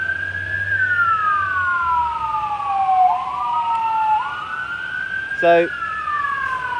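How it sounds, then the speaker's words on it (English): A fire engine siren wails across an urban green space by the old Exe Bridges, its rising and falling tone sweeping loud and steady throughout, with a brief word spoken and a short burst of another horn near the end. "It's a fire engine."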